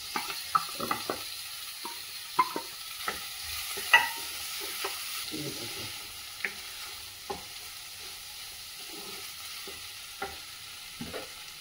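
Boiled potatoes go into a pan and are fried and stirred for potato bhaji, with soft scraping strokes and light clinks over a faint, steady sizzle, close and quiet, with no talking.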